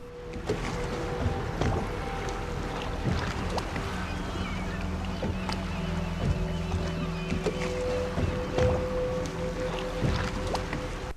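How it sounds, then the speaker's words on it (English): Ambient harbor soundscape from the Dishonored video game along a river shore: a steady low drone of a distant whaling ship under wind and water, with faint scattered seagull-like cries. "You'll hear the cries of seagulls and the drone of a distant whaling ship in the background as you walk along the river shore."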